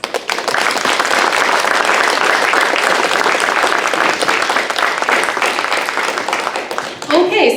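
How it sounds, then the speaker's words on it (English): A summit meeting audience breaks into loud, sustained applause that fills the room at a steady level for about seven seconds before a voice begins speaking at the very end. "Can we please take a moment to give each of these individuals a round of applause?"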